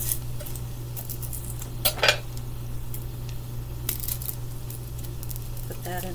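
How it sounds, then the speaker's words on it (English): A knife cuts through a sweet candy onion on a board for a low-carb breakfast salad, giving a few scattered crisp cuts and taps over a steady low hum. "So this is a candy onion I bought yesterday. Supposedly they're very, very sweet, so I'm going to cut that up."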